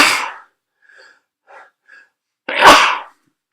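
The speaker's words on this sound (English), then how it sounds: "and I'm going to sneeze." A single loud, close sneeze with a sharp burst and breathy tail rings out on its own, preceded by a softer intake of breath and a few faint small sounds in otherwise near silence.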